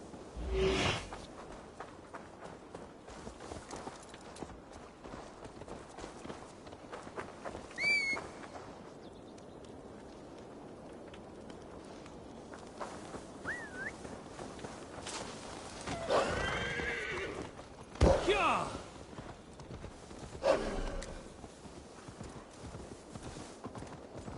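A horse in the Viking-era game Assassin's Creed Valhalla whinnies and snorts while its hooves clop steadily nearby on the ground, with louder neighs rising partway through and near the end over a quiet outdoor backdrop.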